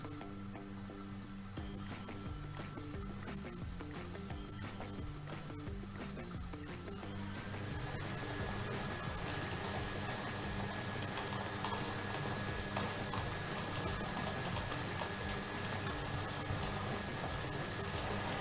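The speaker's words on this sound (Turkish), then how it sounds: "canlı yayında toplarını karıştırmaya başladı" A lottery draw machine for a live Şans Topu broadcast churns steadily, its balls rattling and clicking in a continuous dense tumble that grows louder partway through.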